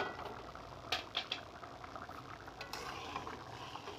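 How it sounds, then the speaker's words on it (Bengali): Spinach and lentil curry simmers and bubbles in a pot, a steady soft hiss with faint bubbling, broken by a few brief clinks of a spoon stirring near the start and middle. "এই দেখো আমার মসুর ডাল দিয়ে পালং শাকের তরকারি ফুটছে"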